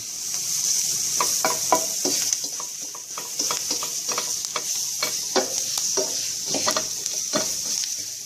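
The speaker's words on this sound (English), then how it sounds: "we're gonna let it brown, like caramelize with the onions for our gravy" Flour, vegetable oil and onions brown together in a pot for gravy, giving a steady close sizzle broken by repeated scraping stirs throughout.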